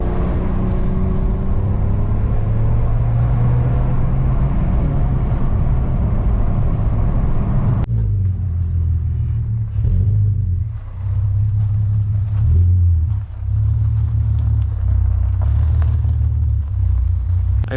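Several cars driving out of a park one after another, engines rumbling close by at a steady loud level, with a passing vehicle changing the sound partway through and no talking.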